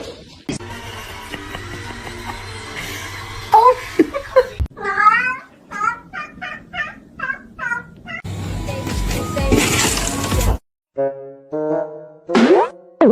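Several kittens meowing and crying loudly at close range, a run of short, plaintive, rising-and-falling mews with pauses between them, plus other household noises and brief scuffling.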